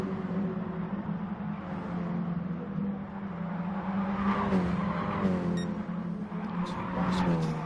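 Mini Cooper race cars howl around Suzuka East Circuit, engines droning steadily then rising and shifting as cars pass, with faint tyre squeal and commentary talk underneath.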